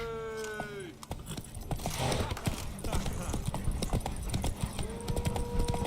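Steady clip-clop of horse hooves at a trot in The Witcher 3: Wild Hunt, with a brief whinny at the start, close and clear, with scattered background noise.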